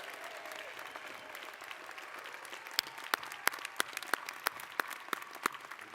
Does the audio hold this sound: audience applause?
yes